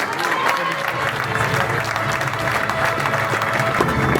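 Steady crowd applause at a football event in Marseille, a dense continuous clatter of clapping hands that holds at an even level throughout, with some voices mixed in.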